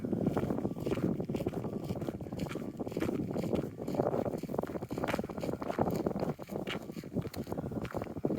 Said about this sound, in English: I feel the wind picking up a little